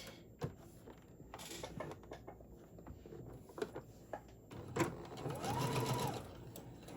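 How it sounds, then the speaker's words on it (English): A sewing machine runs in short stitching bursts and then a steadier run while pinned pieces of a handmade teddy bear body are fed under the presser foot, with clicks and handling noises between the passes. "I am going to get this underneath my presser foot."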